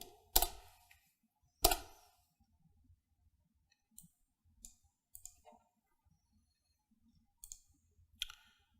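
A command is typed on a computer keyboard: two loud, sharp key strikes, then sparse, lighter clicks in small scattered groups, close by and quiet, with no talking.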